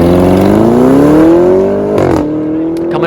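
A loud 2021 Porsche Cayenne GTS engine revs up with a rising pitch as the SUV accelerates hard from 0 to 60, then shifts and settles back into a lower drone.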